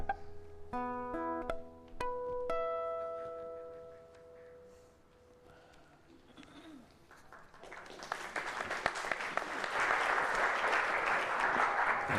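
A congregation at a Sunday morning service breaks into applause after tonal chimes and a quiet pause, and the clapping swells to a steady, moderately loud patter.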